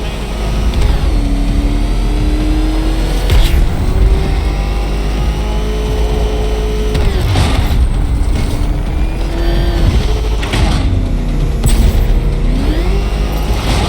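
The Batmobile engine in the Batman Arkham Knight game races nonstop, with a loud, continuous roar whose pitch rises and falls as it revs, and heavy booms and impacts throughout.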